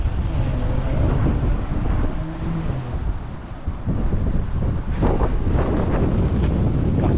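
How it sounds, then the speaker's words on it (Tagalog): Strong wind buffets the microphone at sea, a constant loud rushing roar with water sloshing beneath and a brief splashy burst near the end. "Lakas ang hangin."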